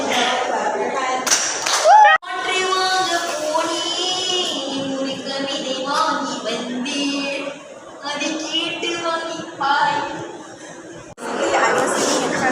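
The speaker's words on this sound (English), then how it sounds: "If you're happy and you know it, clap your hands." A group claps along to the children's song "If You're Happy and You Know It", with bursts of hand claps set among chatter, light laughter and sung voices nearby.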